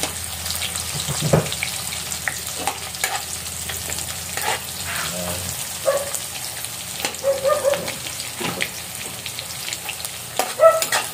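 Onion, ginger and chili sauté in a pan as a base for snails in coconut milk, with a moderate sizzle broken by irregular scraping stirs and some watery splashes, no talking.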